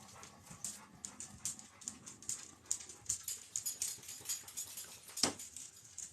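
A pet dog pants in quick, breathy, rhythmic puffs close by, with some shuffling movement and a sharper knock near the end. No one speaks.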